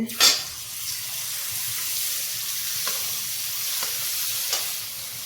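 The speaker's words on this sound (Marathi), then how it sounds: "आता त्याच्यामध्ये मी हे बटर टाकते" Butter crackles and sizzles in hot oil in a pan, a steady hiss with a louder spatter at the start.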